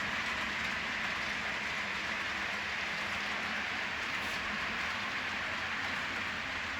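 A train runs along a single track on an old railway line, giving a loud, steady rolling roar with a hiss of wheels on rail that holds constant throughout, close by with no voices.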